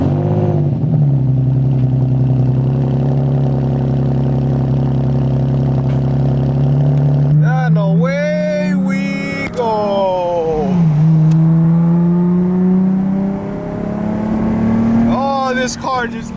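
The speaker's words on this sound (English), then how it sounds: "This car just keeps revving and revving and revving and revving." A widebody Nissan GT-R with deleted mufflers idles loudly and then revs repeatedly, its engine note climbing and falling in several sweeps, close and dominant, with a person talking over parts of it.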